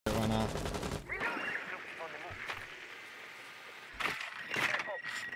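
Rapid automatic gunfire from Rainbow Six Siege rattles in a dense burst, followed by scattered shots and clatter under a continuous game ambience, with voices talking over it.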